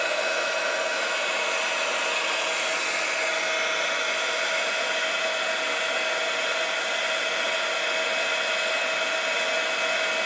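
A heat tool blows hot air onto cardstock for a shaker card, giving a steady, loud, unbroken whooshing hum that stays constant throughout.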